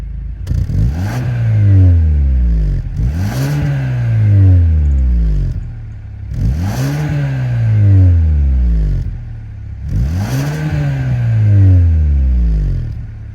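A 2023 Kia K5 GT with a 2.5-liter turbocharged inline-four revs through its quad-tip exhaust in four loud, close blips, each rising sharply and falling away, with no talk.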